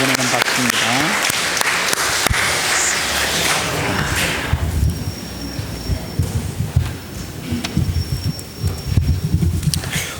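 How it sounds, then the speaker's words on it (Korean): A congregation at a Sunday morning church service claps in encouragement for one another. A loud, dense burst of applause fills the first few seconds, then thins out into scattered quieter claps and low murmuring. "옆에 사람에게 격려의 박수 한번 해주겠습니다"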